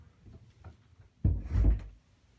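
A room door near a bitcoin mining box is shut close by, giving one solid thud with a short rattling settle, set against a low, steady background hum.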